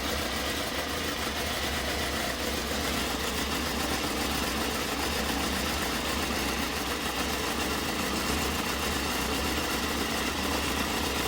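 A 20-year-old Honda CBF 600 motorcycle engine runs steadily while warming up, with fresh spark plugs and a suspected misfire, giving a continuous close idle hum with fine vibration throughout.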